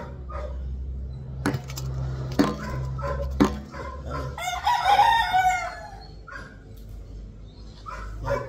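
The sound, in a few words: rooster crowing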